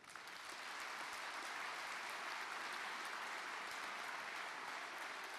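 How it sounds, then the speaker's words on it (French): A large audience at a Party of the European Left New Year kickoff event in Berlin applauds Die Linke, with dense, steady clapping that holds at full strength throughout. "je voudrais que vous applaudissiez Die Linke au nom du Parti de la gauche européenne."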